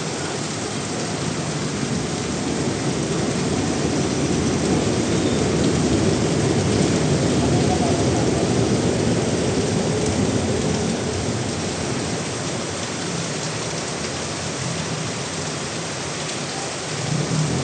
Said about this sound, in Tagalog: bumagsak na po ang ulan guys. Medyo may kalakasan